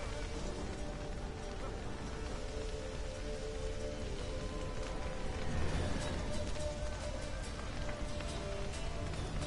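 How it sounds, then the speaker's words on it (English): Rain falls steadily during a fight in the video game Witcher 3: Hearts of Stone, a constant dense hiss with faint mechanical clanks and creaks mixed in. "And I really love that this fight happens in the rain."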